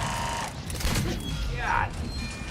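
Video game gunfire in a Mass Effect-style squad battle crackles as a quick burst of shots and mechanical clatter over ambient noise, with someone speaking.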